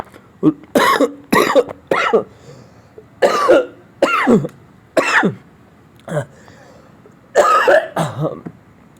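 Repeated coughs and throat clearing, close and loud, coming in a series of bursts with brief gaps between them.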